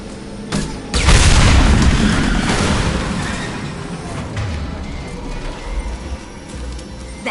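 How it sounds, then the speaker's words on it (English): A tank blows up in a Mass Effect 2 firefight, a loud close boom that bursts in after a brief earlier crack, then a long rumbling tail with debris and combat noise fading over several seconds. "It'll take heavier weapons than that to blow those tanks."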